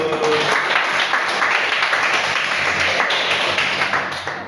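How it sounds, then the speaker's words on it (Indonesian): A room full of people applauding, dense and steady clapping for a few seconds that tapers slightly at the end, with some voices mixed in. "Tepuk tangan dulu."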